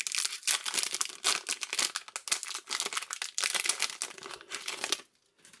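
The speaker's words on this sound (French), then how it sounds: "l'ouverture des pochettes, là c'est pareil, on a une pochette plastifiée" Loud, close crinkling and tearing of plastic wrapping as Futera FC Barcelona trading card packs are ripped open, a dense crackle lasting several seconds before stopping abruptly.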